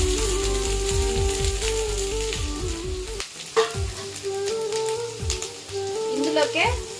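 Sliced onions and green chilies hit hot oil in a kadai, giving a dense, close crackling sizzle with scraping stirs and small pops throughout.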